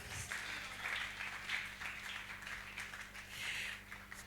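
A church congregation applauds together at a grace seminar, a steady wash of clapping that swells and eases for several seconds with a low hum underneath and no voice over it.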